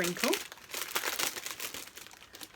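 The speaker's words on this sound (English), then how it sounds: "It's going to be a bit of a crinkle." Crinkly plastic wrapping on a cross-stitch kit being opened, close, dense rustling and crackling over a few seconds with a brief voice at the start.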